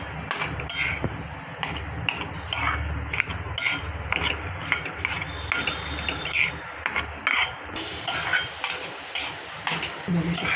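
Potatoes with turmeric stir-fried in a pan for village-style kat vada, a spoon scraping and clattering steadily against the metal over a faint sizzle.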